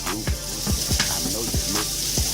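Morning Star Farms chik'n strips fry in a pan with a continuous bright sizzle, broken by several quick scraping stirs in an irregular rhythm.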